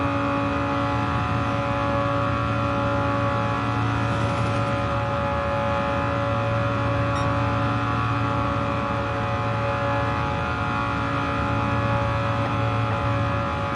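A sports car engine drones steadily at high revs throughout, a continuous loud whine with small shifts in pitch, game-like and without speech.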